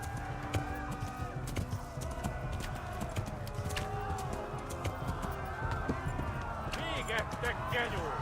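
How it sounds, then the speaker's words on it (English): A horse galloping in the medieval video game Kingdom Come Deliverance, steady rhythmic hoofbeats running continuously under a voice talking throughout. "Corre, cavalo."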